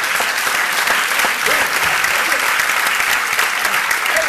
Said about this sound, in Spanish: Por favor, no me aplaudan mucho